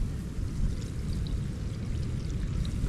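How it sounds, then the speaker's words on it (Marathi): Water is poured as a ritual offering during a Gauri festival ceremony, a steady, splashing stream, continuous and fairly close, with no voices. "चला पाणी सुद्धा अर्पण केलंय"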